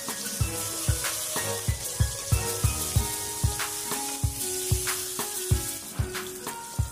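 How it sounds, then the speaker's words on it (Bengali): Pieces of rohu fish rubbed with salt and turmeric hiss and sizzle in hot oil, a steady crackling fry punctuated by regular sharp spits and pops, close and clear with no voices. "এবার একে একে লবণ হলুদ মাখিয়ে রাখা রুই মাছগুলোকে দিয়ে দিচ্ছি।"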